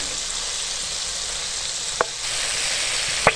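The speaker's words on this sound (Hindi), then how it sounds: "10 मिनट के लिए हम इसको मीडियम आंच पे फ्राई करेंगे और इसकी साइडें उल्टी पल्टी करते रहेंगे।" Chicken wings fry in oil over medium heat with a steady, even sizzle that holds throughout, broken by two brief clinks or taps near the end.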